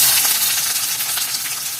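Three medium-sized chopped onions land in hot oil and sizzle strongly, giving a steady, close, bright hiss that lasts the whole moment with no one talking.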